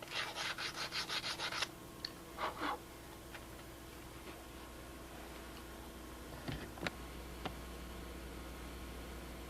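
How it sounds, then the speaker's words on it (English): Steady rhythmic hand sanding of gold-leaf lettering on wood, a quick series of scrubbing strokes at first, then quieter with a few light taps and knocks. "I'm just going to finish sanding these out"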